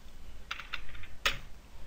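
Crisp keystrokes on a computer keyboard, a quick pair of taps followed by a sharper single press, close and clear over faint background hiss.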